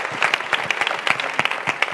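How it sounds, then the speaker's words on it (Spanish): An audience at a bullfighting fair poster presentation in Andújar bursts into brisk, close applause, with individual claps audible within a lively, continuous patter. "Un aplauso, claro que sí"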